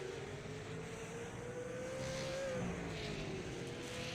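Super trucks race around the Lanier National speedway track, heard as a faint, distant engine drone that swells slightly with a brief rising pitch sweep, steady throughout.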